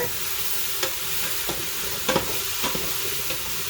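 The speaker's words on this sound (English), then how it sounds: "I'm going to give that a couple of good stirs around there." A spoon stirs a pot of forest stew after bay leaves go in, with a few distinct scraping strokes spaced out over a steady simmering sizzle close by.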